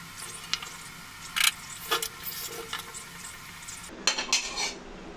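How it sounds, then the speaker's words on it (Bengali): A warm homemade drink being strained at home, with scattered metallic clinks and scrapes of a strainer and utensils against a cup, in short irregular bursts over a quiet background. "উষ্ণ গরম এই পানীয়টি এখন ছেঁকে নিচ্ছি।"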